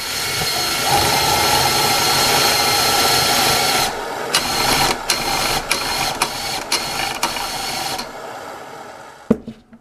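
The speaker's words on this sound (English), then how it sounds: "here we go with the flamethrower using the drill" A homemade drill-powered flamethrower fires in a loud, steady roaring rush for about four seconds, then sputters in a series of sharp bursts before cutting out, with one final pop.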